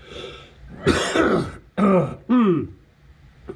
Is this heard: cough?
yes